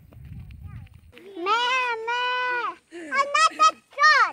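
Goats bleating on a farm, several wavering, nasal calls in quick succession after a moment of low rustling, fairly close and loud.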